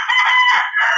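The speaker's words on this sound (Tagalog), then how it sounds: "yun po ang mga manok dito" A rooster crows nearby in Surigao, one long, loud, clear call with a brief dip in the middle before it carries on, set among other chickens.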